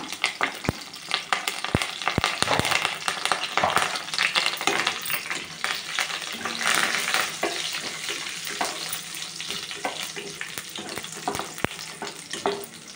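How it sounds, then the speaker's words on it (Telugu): Dried red chillies, garlic and cumin seeds sizzle and crackle steadily in hot oil for a rasam tempering, with sharp pops and a few clinks of stirring throughout, close and moderately loud. "ఒక 4 ఎండుమిర్చి, ఒక తెల్లపాయలు, 1 స్పూన్ జీలకర్ర తాలింపు వేసేస్తున్నాం."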